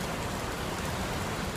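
Steady rain falls over a gloomy, dark Romanian city, a dense continuous hiss of drops on surfaces with no voices, even and unbroken throughout.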